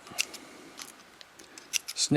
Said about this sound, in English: I'll take my scissors and I'll snip